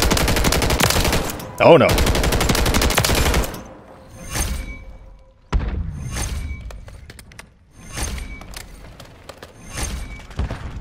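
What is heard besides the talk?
light machine gun firing in video game Modern Warfare 3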